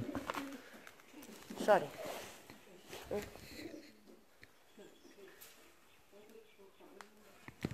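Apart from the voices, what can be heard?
pigeons cooing in an abandoned building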